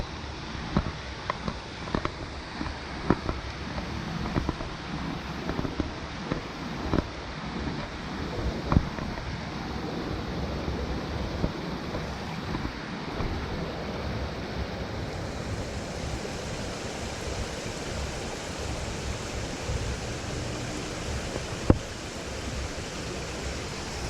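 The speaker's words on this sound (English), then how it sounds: "there's nothing more beautiful than the sound of falling water" Steady broadband rush of falling water beside a trail on a recumbent bike ride near Buffalo, continuous and fairly close, with faint wind noise and scattered small knocks in the first half.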